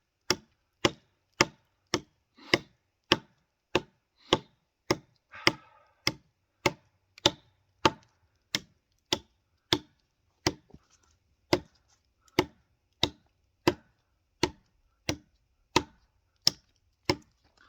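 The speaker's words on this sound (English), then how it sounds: "Let's do a little more chopping." Steady, evenly spaced sharp chops of a Schrade Old Timer 169OT D2 steel knife striking wood, about one every half second, close and crisp with brief silence between each blow.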